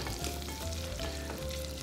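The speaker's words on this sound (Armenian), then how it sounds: "Տապակում ենք, մինչև ստանանք" Food fries in a pan toward a golden crust, a continuous close sizzle and crackle with faint stirring scrapes and no voices.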